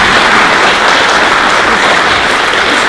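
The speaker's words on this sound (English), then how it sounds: "give her a great big round of applause" An audience breaks into loud, dense applause, a continuous wash of many hands clapping at once that holds steady throughout.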